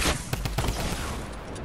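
Gunfire from a battle royale shooter video game, a burst of several sharp close shots early on, then a dense rattling wash of distant shooting that carries on steadily, with faint player chatter mixed in.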